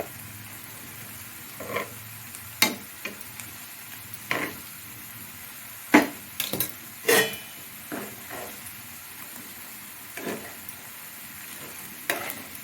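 Bitter gourd slices fry in oil in a vada pan, a quiet sizzle broken by scattered clicks and scrapes as the pieces are turned over one by one.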